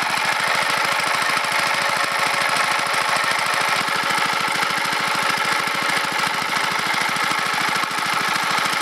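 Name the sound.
motor running with no load, warming up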